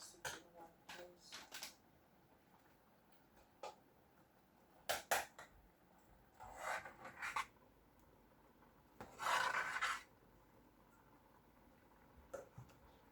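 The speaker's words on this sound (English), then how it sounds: "Just gonna stir it quick because I don't want it to lump up or sit in one place." Red pea soup being stirred in a pot, giving scattered, brief scraping and rubbing strokes at close range, with some louder stirring bursts in a quiet kitchen.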